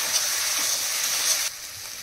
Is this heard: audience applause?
no